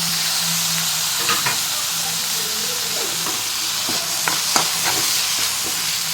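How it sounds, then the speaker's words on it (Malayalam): Chopped tomatoes sizzling in a hot frying pan, a loud steady close-up hiss with occasional stirring clicks and pops, no talking. "ഇപ്പോൾ നമ്മുടെ തക്കാളിയാണ് ആഡ് ചെയ്യാൻ പോണത്."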